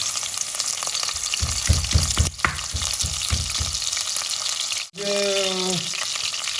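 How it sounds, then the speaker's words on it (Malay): Two stalks of lemongrass fry in hot oil, giving a continuous bright sizzle with some rhythmic clattering of stirring, a brief drop in the hiss, and a tonal squeak near the end. "minyak dah panas. Kita masukkan serai."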